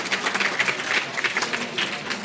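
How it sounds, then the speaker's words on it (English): An audience at a live economics talk claps in a dense, moderately loud burst, with individual claps standing out in an uneven rhythm and no voices on top. "I like to pretend the applause is for me"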